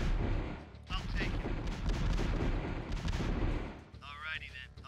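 Units trade fire in the strategy game KKND2: Krossfire, with dense, rapid gunshots and heavy booming artillery blasts running throughout, and a voice briefly heard near the end.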